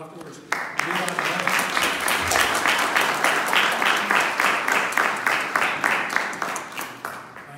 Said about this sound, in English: I just wanted to give them a round of applause afterwards.